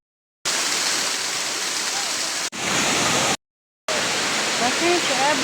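Parkhan Falls in Abra: a loud, close, steady rush of falling water filling the whole clip, broken by short cuts to silence, with faint voices barely showing through.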